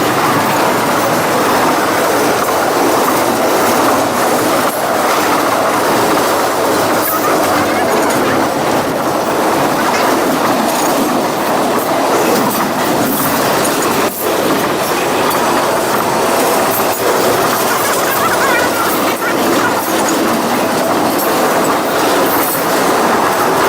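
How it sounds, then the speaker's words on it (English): Second half of a long freight train rolling past a trackside spot, a steady loud roar of rail cars with clickety-clack wheel beats and occasional squeal, continuous throughout with no talk. "So now we're seeing the second half of this train."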